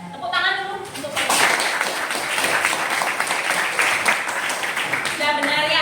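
Classroom applause for a student named Feby, a dense burst of many hands clapping that fills most of the stretch, with children's voices calling out over it at the start and end.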